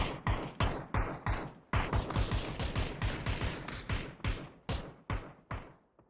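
Mortar fire in the battle game PUBG, heard as a series of sharp booming blasts in rapid succession, roughly a dozen hits with brief gaps, loud and close, no talking.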